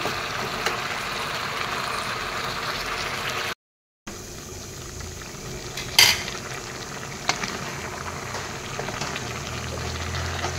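Pieces of meat being stirred in a pan as they fry and release their juices: a steady, close sizzle and bubbling, with occasional scrapes and a brief gap.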